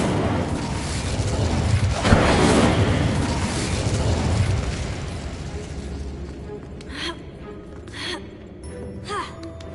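An Incendio fire spell is cast in the Hogwarts Legacy video game, a loud whooshing burst of flame that roars and fades over several seconds, followed by quieter spell pops and chimes.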